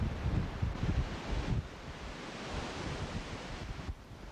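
Fierce Patagonian mountain wind roars continuously, close and loud, with low gusty rumbles buffeting the microphone.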